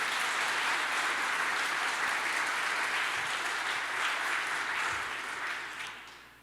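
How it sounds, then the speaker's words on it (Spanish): A church congregation applauds for the Lord in a steady, dense wash of clapping that fills the space, holding strong before tapering off near the end. "Dale fuerte el aplauso al Señor."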